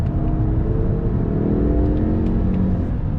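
A 2021 Mazda 3 Turbo hatchback with the Aero Package pulls hard out of a corner on throttle, its engine droning loudly and steadily from close by, with a faint whir over the low rumble.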